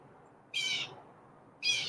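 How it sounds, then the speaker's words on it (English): Two loud, high, shrill bird calls ring out about a second apart. Each is a short harsh burst standing well above a low background murmur, with no speech. "Man, loud bird."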